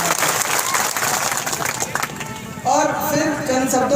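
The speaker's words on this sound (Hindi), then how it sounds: "एक बार जोरदार तालियों से।" Crowd applause rings out at the opening ceremony of a cricket tournament in Sikri, a loud burst of clapping for a couple of seconds before a voice takes over over the tail of it.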